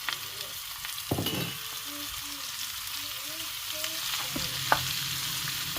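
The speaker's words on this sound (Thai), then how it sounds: "เราก็จะใส่หมูบดของเราลงไปนะคะ" Minced pork stir-fried with larb chili paste in hot oil, a steady sizzle and crackle running throughout with occasional scrapes and clinks of the spatula against the pan, close up.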